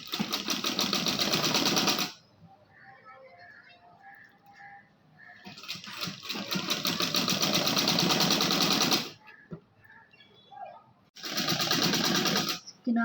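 Electric sewing machine stitching piping along a dress neckline, running in three loud sustained bursts separated by pauses with faint rustling, close to the microphone.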